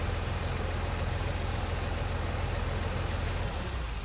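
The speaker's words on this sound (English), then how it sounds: "Should be able to leave the tractor right there." A Massey Ferguson tractor idles in Farming Simulator 19, a steady low engine drone with a faint pulsing beat that holds evenly throughout, quiet and with no talking.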